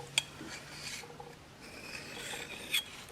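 A four-blade broadhead is hand-filed to remove the burr, giving faint, intermittent scraping and rasping strokes with a couple of brief sharp metallic ticks against quiet room noise.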